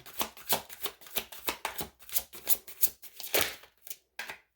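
Tarot cards shuffled by hand up close, a rapid series of crisp riffling and slapping bursts in an uneven rhythm, with a short pause near the end.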